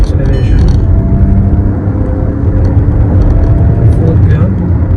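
A 2023 Škoda Slavia 1.0 TSI with a manual gearbox accelerates hard in third gear, giving a loud steady engine drone with road and wind noise inside the cabin, as a voice talks over it.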